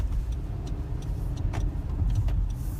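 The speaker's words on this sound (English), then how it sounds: "we're just going to make a couple turns and keep driving around town here" 2017 Honda CR-V Touring AWD driving around town, heard from inside the cabin as a steady low road and engine rumble with faint light clicks, continuous and moderately quiet, no talk.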